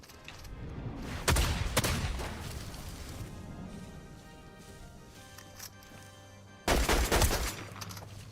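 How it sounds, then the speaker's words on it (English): A Fortnite SMG firing in two loud rapid bursts, one early and one near the end, with quieter game ambience and movement sounds between them. "SMG."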